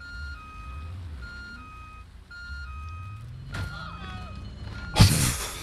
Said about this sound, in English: You heard the beeping.